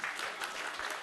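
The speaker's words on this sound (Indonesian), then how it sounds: "Tepuk tangan boleh sebetulnya." Brief, faint audience applause at an energy policy talk on subsidized fuel, a soft wash of clapping lasting about a second.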